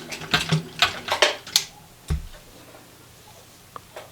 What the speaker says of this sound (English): I'm just going to use my straight stitch because I have an old Singer machine